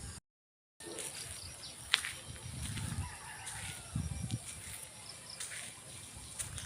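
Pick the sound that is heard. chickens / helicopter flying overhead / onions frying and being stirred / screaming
chickens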